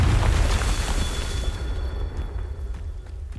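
A Confringo fire spell goes off in the video game Hogwarts Legacy as a loud boom. The blast rumbles heavily at first, then fades into a decaying roar with a faint tone lingering over it.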